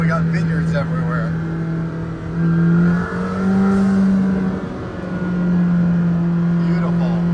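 A McLaren Senna supercar engine hums and revs from inside the cabin, pitch rising and falling, with people talking over it.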